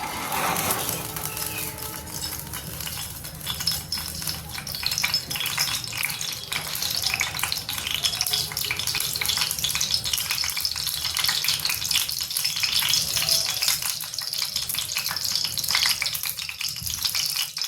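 Continuous crackling sizzle of reused pakora-frying oil heating in a pan, steady and close, with faint rattling throughout.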